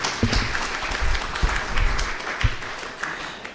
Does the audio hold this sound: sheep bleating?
no